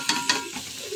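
Cauliflower, potato, carrot and green beans with turmeric being sautéed in hot oil, a steady sizzle cut by two quick scraping stirs of a spatula in the pan.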